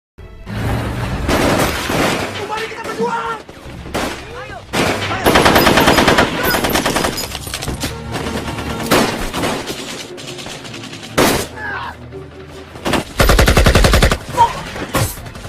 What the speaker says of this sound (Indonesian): Tiba-tiba mereka dihadang oleh pasukan Belanda dan pertempuran tak bisa terhindarkan.